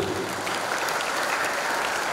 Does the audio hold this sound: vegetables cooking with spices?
no